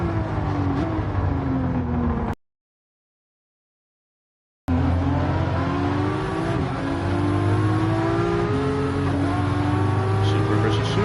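Toyota Supra race car engines in Gran Turismo 7 rev hard and climb toward redline in rising whines, cut by a brief silent gap, with a commentator's voice running over the steady engine roar.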